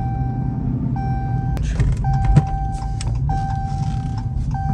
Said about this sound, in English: Hear something clacking and clanking. It might actually be the sway bar.